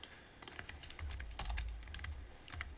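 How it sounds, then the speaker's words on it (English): Computer keyboard keys click in a quick scattered run, soft and close, with a low thump partway through, with no voices. "I'm going to hit 1 on my keyboard just to make sure that I'm using a brush."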